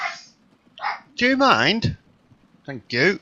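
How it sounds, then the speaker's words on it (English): A pet dog indoors gives short yips and a drawn-out whining bark, loud and close, mixed with someone talking. "Oops, sorry about my dog."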